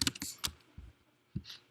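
Several quick keystrokes tap on a computer keyboard up close, a short cluster of sharp clicks followed by a couple of isolated presses in a quiet room.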